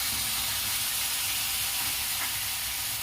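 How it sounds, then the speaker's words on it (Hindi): Ground tomato, green chili and ginger paste fries in a hot pan over high flame, giving a loud, continuous close-up sizzle and steamy hiss throughout. "इसके बाद 2 टमाटर, 2 हरी मिर्च और 1 इंच अदरक जो पीसी थी उसे मैं डाल दूंगी।"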